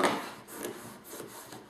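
Adhesive strip being rubbed down onto a clear plastic notebook case: short, soft scraping strokes close by, quiet and steady, with no voices.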